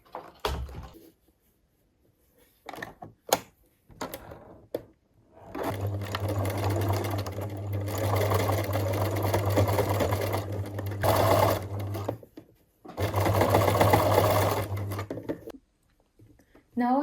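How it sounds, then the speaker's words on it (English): Sewing machine running along a skirt waistline joining outer fabric and lining, two sustained humming runs with a brief pause between, preceded by clicks and handling, with a voice speaking. "Now I'm sewing the waistline of the skirt."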